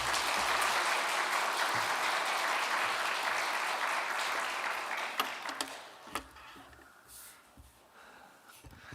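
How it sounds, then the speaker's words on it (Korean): A church congregation claps to welcome a visiting pastor at a revival service, a broad steady roar of applause that fades and gives way to a few scattered claps and room noise. "첫 인사 우리 박수로 환영하면서"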